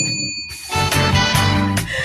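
Bright bell tones ring out in quick succession, three clear strikes with shimmering overtones against a steady background hum.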